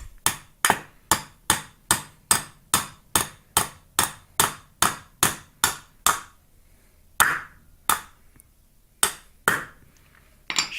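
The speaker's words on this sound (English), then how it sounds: "Tap her on in. Go get the hammer." A hammer strikes repeatedly while tapping a door into place during installation, with about fifteen evenly spaced sharp knocks followed by a few slower, scattered blows, close and loud.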